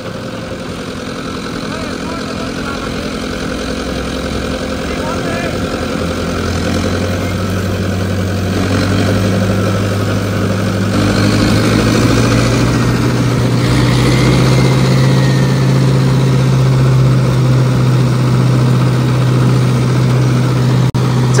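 A 50 hp turbo-upgraded tractor engine drives a reaper, its steady low drone holding near and loud and deepening slightly as the revs settle higher partway through, with voices talking over it.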